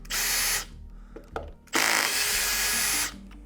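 A power driver backs screws out of the piston of a DROP 1-inch water softener valve. There are two loud, close whirring runs, a short one and then a longer one, with small mechanical clicks between them.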